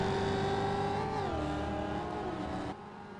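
Mazda MX-5 race cars lapping the Homestead circuit, engines droning loud and steady with a falling pitch as a car passes and recedes, no talk over it.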